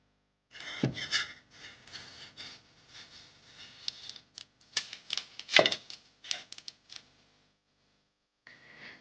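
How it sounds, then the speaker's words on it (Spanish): Knife cutting through mango cake dough around a pizza plate used as a guide, giving a series of close, crisp scraping and chopping strokes with brief pauses and a final soft cut. "Le doy la vuelta y le quito el papel de horno y ahora lo recortamos."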